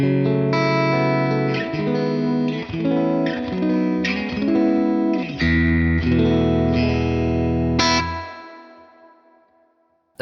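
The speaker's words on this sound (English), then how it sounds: "it's a digital recreation of a spring reverb, and it's got, if I turn up the reverb there, it's got tons of drip" Tone King Imperial tri-tube guitar preamp played through its convolution spring reverb turned up, giving sustained, chorus-tinged chords with a wet, drippy reverb tail that rings out and fades at the end, no talking.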